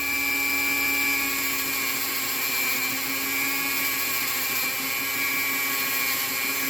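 Rotary tool polishing the contact surfaces of an M16A1 clone trigger, a steady high-pitched whine with faint grinding texture running unbroken and fairly loud throughout, with no talking.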